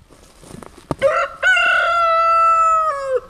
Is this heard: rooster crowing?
yes